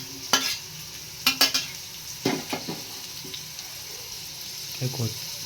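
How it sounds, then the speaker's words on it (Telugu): Sliced onions and green chillies fry in a pan of oil for a fish curry: a soft sizzle runs underneath while a spoon scrapes and knocks against the pan in several separate bursts. "ఫస్ట్ ఆనియన్స్ మిర్చి ఉల్లిపాయ వేసేసుకుంటున్నాం"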